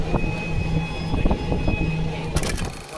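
The Lalgola Sealdah Express rolls into Dum Dum Junction, heard as rhythmic wheel clatter over the rails with a thin, steady metallic whine and a sharper burst of rattling near the end.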